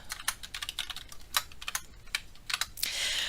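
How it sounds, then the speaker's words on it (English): Keys on a computer keyboard tapped in quick irregular clusters while typing a line of code, crisp and close, with short pauses between bursts and a soft hiss at the end. "I can go in here and type print with my quotes"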